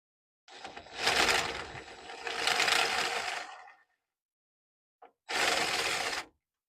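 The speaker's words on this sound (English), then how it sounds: "let's go ahead and get this first bolt out." A bolt comes out of a car starter motor during a starter replacement, as two long mechanical ratcheting runs, a short click and then a third burst, all close by with no talk.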